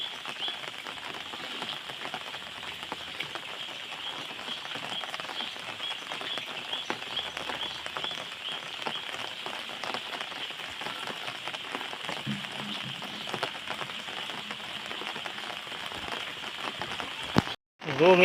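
Heavy rain pounds down on Methala village in a constant, dense patter of drops on surfaces, steady and close for the whole stretch, with a brief break right at the end.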